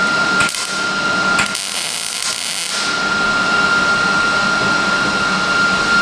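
Tack welds on a Ford Explorer exhaust flex pipe produce short crackling bursts, the last longer than the first two, over a steady mechanical hum that continues afterward.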